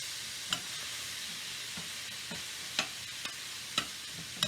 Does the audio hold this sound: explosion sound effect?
no